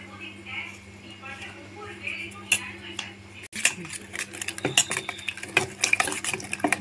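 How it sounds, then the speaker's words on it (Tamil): Spoon stirring egg gravy seasoned with ground pepper in a pan: light clinks and scrapes, sharper from midway, close and fairly quiet over a steady low hum. "நல்லா கலந்து விட்டுக்கலாம்"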